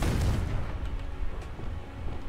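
Explosion effects from Confringo and Bombarda spells, a heavy booming blast with deep rumble, loudest at the start and rolling on in crackling low bursts.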